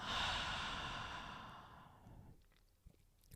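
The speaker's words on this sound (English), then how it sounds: "Inhale and exhale." Slow, deep breath drawn and released in a calm guided meditation, a long soft airy exhale fading out, followed by a faint start of the next inhale, close and quiet.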